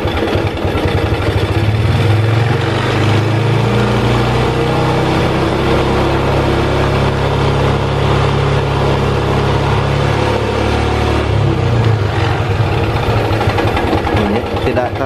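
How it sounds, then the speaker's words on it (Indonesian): Motorcycle engine running steadily with a dense, buzzing idle and throttle pulled, held loud and close throughout during a charging-system check for a battery that won't charge. "Kita nyalakan lagi nih sepeda motornya, dan kita langsung tarik gas aja ya."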